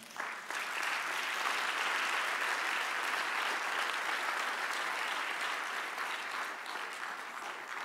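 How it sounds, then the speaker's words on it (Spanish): A church congregation applauds steadily, a dense, loud wash of many hands clapping that swells in quickly and holds evenly without pause. "Dale un aplauso al Señor."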